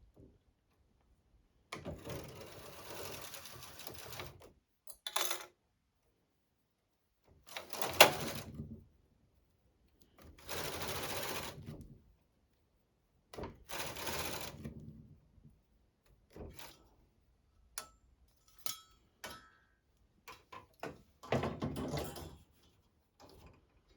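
A domestic knitting machine carriage sliding back and forth to knit a half-cardigan rib, giving several separate whooshing, rattling passes a few seconds long with quiet gaps between them, followed by scattered clicks and ticks.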